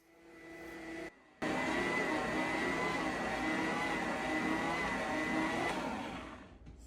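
A Bosch stand mixer kneads bread roll dough with a loud, steady motor whir and a rhythmic churning drone. The noise cuts out briefly near the start, then runs continuously until it fades at the end.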